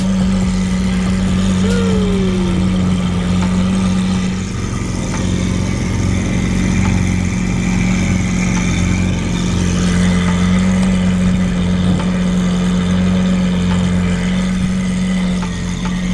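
A truck's loud exhaust drones steadily nearby at Summit Point Motorsports Park, holding a deep, constant rumble for a long stretch with a brief rise in pitch early on.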